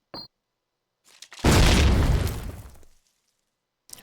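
A single loud grenade blast in a Call of Duty match booms and rumbles for over a second before fading, set between near silence and a few faint clicks.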